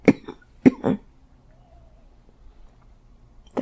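A person coughs sharply in short bursts: two quick coughs, a pause in near silence, then another cough at the end, close and fairly loud.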